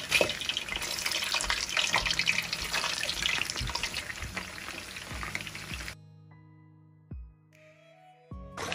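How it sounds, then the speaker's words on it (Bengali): Samosas deep-frying in hot oil bubble and sizzle loudly and steadily for about six seconds, then the frying noise cuts out, leaving a few soft clinks and low hum. "একইভাবে আমি রোলের মতো সমোসাও ভেজে নিচ্ছি।"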